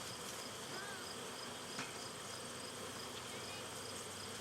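Honey bees buzz steadily around a strong backyard beehive in Swanzey, New Hampshire, a dense, continuous hum with individual bees passing close to the listener.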